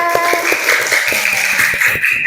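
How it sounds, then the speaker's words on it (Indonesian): A class of children claps hands at the end of a lesson, a brisk run of claps over a busy room with tonal music or voices mixed in. "Bu Ita beri tepuk tangan, silakan."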